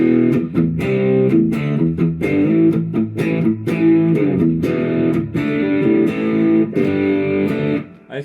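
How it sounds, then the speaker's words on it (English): An electric guitar plays chords and notes through a Strymon Deco V2 pedal, its tape saturation used as distortion, giving a warm, mildly driven tone; the playing is loud and continuous with short breaks between strums. "So just thinking of this as a distortion box for a moment."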